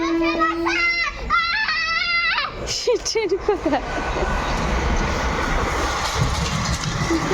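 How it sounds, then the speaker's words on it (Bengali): A child and an adult talk on a rooftop while a local train's steady roar rises in the background and carries on to the end. "লোকাল ট্রেন দেখবে।"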